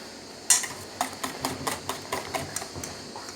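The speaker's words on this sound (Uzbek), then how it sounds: "Hammasini aralashtirib olamiz." Potato samsa batter made with sparkling water and baking soda is stirred in a bowl, the utensil clinking against the sides in a steady, quick rhythm, close and with no talk.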